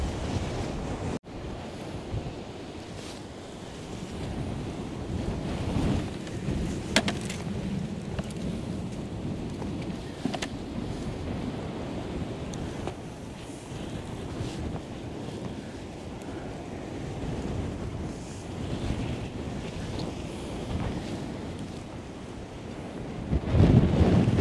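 Strong sea waves crash and roll against the shore under steady buffeting wind and microphone rumble, a continuous loud wash with a heavier surge near the end.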